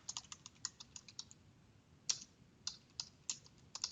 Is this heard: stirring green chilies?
no